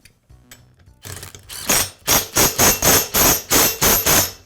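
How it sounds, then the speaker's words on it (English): Flywheel and impeller hub being refitted on an Echo leaf blower during piston ring repair, a series of close, sharp, evenly spaced metallic taps and thunks, loud and alone after a few faint clicks. "Now I'll reinstall the flywheel and the impeller hub."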